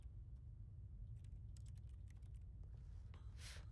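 Keyboard clicking in the video game The Stanley Parable, a faint scatter of quick key taps in irregular clusters over a low background hum, ending in a brief soft hiss.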